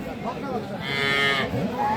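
One long, loud moo rises close by from a dairy cow or calf at the Aftabganj cattle market, with faint market murmur behind it.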